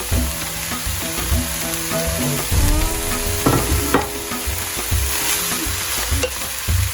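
Yellow and green bell peppers sizzling loudly in a hot pan for a chicken spring roll filling, with a continuous close fry hiss broken by repeated spatula stirring and scraping clatter, no voices.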